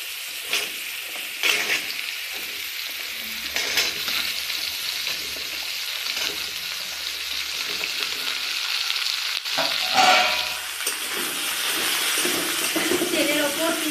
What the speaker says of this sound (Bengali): এবার আমি এই সবজিগুলো একে একে দিয়ে দেব।